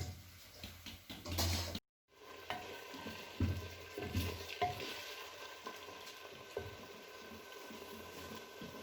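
Onions frying in a pan for a restaurant-style chicken achari handi, a steady close sizzle with occasional stirring clatter and a brief gap of silence near the start.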